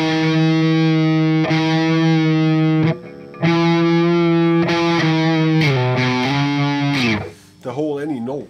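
Heavily distorted doom metal electric guitar with low, slack string tension, playing long sustained notes that shift slightly in pitch, with brief breaks between phrases and a wavering bend near the end, loud and close.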